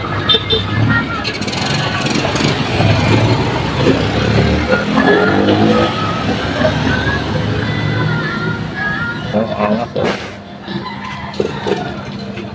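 An old car engine runs after a new battery is fitted, a steady close rumble that holds throughout and dips near the end, with people talking over it and a rooster faintly in the background.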